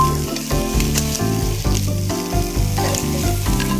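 Squid sizzles and fries loudly in a hot pan with butter and a little oil, a dense continuous crackle close up, with faint stirring or scraping movements under it.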